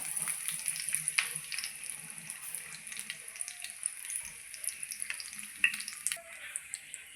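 Curry leaves crackling in hot oil in a pan on the stove for Kerala-style pepper chicken, a moderate steady sizzle with scattered pops and faint clinks, heard close with no talking.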